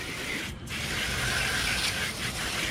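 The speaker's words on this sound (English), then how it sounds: "you want to spray your fish down good, get off any slime that it picked up from being in the cooler" A hose sprays water down a freshly caught and cleaned Atlantic bonito fish, a close, loud, steady hiss with brief dips as the spray shifts, and no talking over it.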